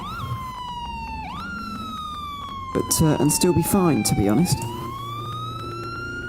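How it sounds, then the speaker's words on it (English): A safety car's wailing siren at a European Hill Climb Championship round, sweeping slowly up and down in pitch, with someone talking over it briefly midway. "That's the sound of the safety car, by the way."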